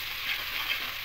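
Spices and Kashmiri chilli powder being stirred in hot oil in a pan make a steady close sizzle with soft scraping swells, without talk.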